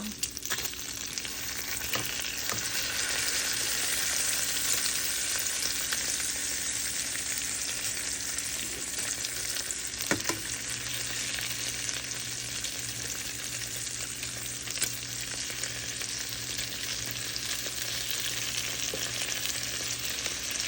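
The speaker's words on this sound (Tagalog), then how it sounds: "nagpiprito ko ng bacon." Bacon sizzles and crackles steadily in a hot frying pan, a continuous close-up hiss with a brief clink partway through.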